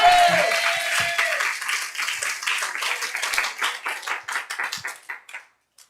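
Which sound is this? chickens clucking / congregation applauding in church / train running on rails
congregation applauding in church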